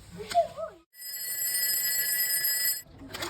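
A toy telephone rings with a steady, bright electronic trill lasting about two seconds, following a brief burst of playful child-like voice sounds.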